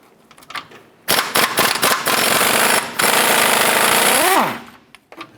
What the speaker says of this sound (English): Using a 21 millimeter wrench and a 21 millimeter socket with our impact,